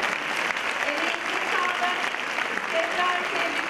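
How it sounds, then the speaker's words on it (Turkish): Audience clapping at an award ceremony, a continuous wash of applause filling the hall at steady volume, with faint voices mixed underneath. "sizleri alkışlarınızla yerinize alıyoruz"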